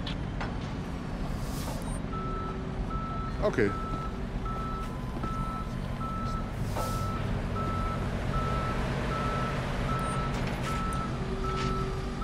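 A tow truck in the Police Simulator game reverses with a steady run of evenly spaced electronic beeps over a low idling engine rumble, with an air-brake hiss partway through and a brief spoken word.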